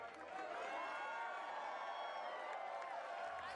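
A large arena crowd cheers and roars steadily for Kacy Catanzaro at American Ninja Warrior 2014, a dense sustained wash of voices and whoops with no pauses.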